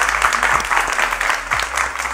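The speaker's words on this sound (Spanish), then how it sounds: "Un aplauso." Applause from a studio audience after a woman completes a heel-and-egg balancing challenge, steady dense clapping filling the whole stretch at close range with only faint voices underneath.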